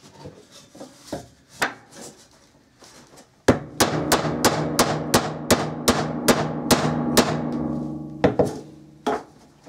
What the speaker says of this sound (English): hitting on that block of wood with the hammer